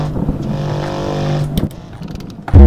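A Mercedes-AMG GT63 engine in the racing game Assetto Corsa drones with a steady, raspy tone, briefly cuts out for a gear change, then bursts back louder as it accelerates.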